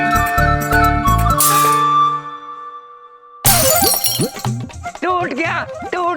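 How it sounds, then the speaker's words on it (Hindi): A glass window pane in a house is broken by a cricket ball, a sudden bright crash and tinkle of glass that cuts through background music and is quickly followed by excited voices talking over it. "चित्र है हमारे बबलू के पापा, अपने घर का शीशा तोड़कर प्रसन्न हो रहे हैं।"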